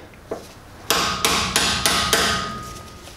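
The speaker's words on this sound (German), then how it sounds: "Am besten mit dem Meißel dahinter gehen" A chisel is hammered behind the rear wheel hub cap of a Renault Megane 3 / Scenic during a rear brake job. One light tap is followed by five loud, evenly spaced metallic strikes that ring out close and alone.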